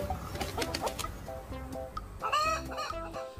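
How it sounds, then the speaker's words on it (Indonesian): A hen clucks repeatedly in short, uneven bursts, fairly close, with a couple of louder squawks in between and no speech. "ternyata di dalamnya ada ayam betina."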